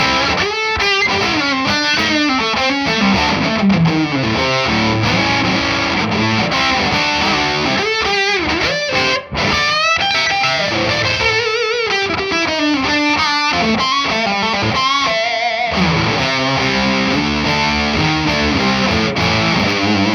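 An electric guitar played through a cheap $15 AliExpress effects pedal rings out with a distorted, processed tone. It runs continuously at loud, steady volume through chords and single-note lines, with one brief drop in the middle.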